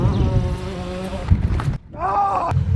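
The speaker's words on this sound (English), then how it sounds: "I got a drone. Check it out." A camera drone flies overhead above a junkyard, giving a steady insect-like buzzing whine with tonal bands that dips briefly before climbing again, loud and close throughout.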